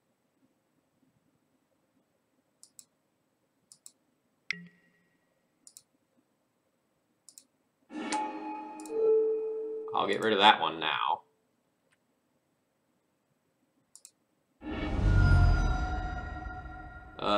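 Sharp, sparse click effects from a streamed online card game, a goblin deck in Legacy, single clicks spaced apart, then a short stretch of talk and a louder burst of interface sounds.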